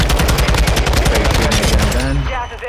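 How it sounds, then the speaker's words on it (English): Rapid automatic gunfire rattles loudly and continuously in a multiplayer shooter video game, a dense burst of closely spaced shots that tails off at the end. "A lot of gunfire outside"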